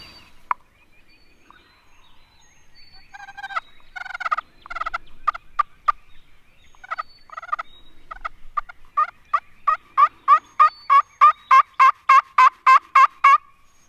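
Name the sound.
wild turkeys gobbling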